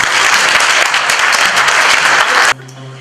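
Audience at a Toronto entrepreneur event applauding loudly and steadily for about two and a half seconds before it cuts off to a quieter room.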